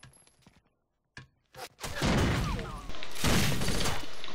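A grenade blast in the video game Rainbow Six Vegas 2: a few thuds and clatters, then a loud, sustained booming roar that swells again midway and holds to the end, with voices faintly underneath.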